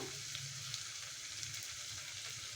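Ridge gourd pieces fry with a pinch of rock salt in a pan. A steady, close hiss carries on evenly without break and nobody talks over it.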